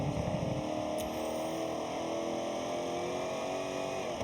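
A Chevrolet Chevelle SS race car in Forza Horizon 6, stripped to full race weight, holds a steady loud engine drone on track, running continuously without talk.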